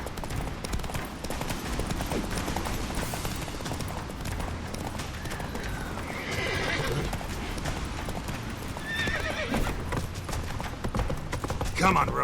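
Horse hooves clip-clopping at a gallop during a horse race in The Witcher 3 video game, with neighs and whinnies over a busy game soundscape, and voices speaking in places.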